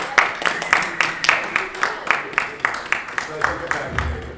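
Audience claps in a distinct, regular rhythm at a convention press event, loud close hand claps repeating roughly every half second, with some crowd sound underneath.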